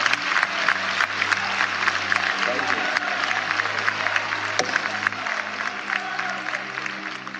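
Members of the National Assembly applaud during a live address by the president presenting the 2025 budget. A large hall fills with sustained, dense clapping, and a low hum sits beneath the applause.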